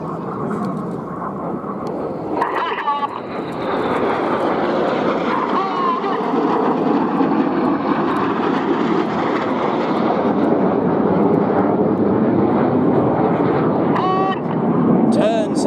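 RAF Red Arrows jets making a low pass just 30 metres above the runway at an air display, a loud sustained broadband roar that swells and holds throughout, with faint crowd voices and a goose-like honk briefly under it.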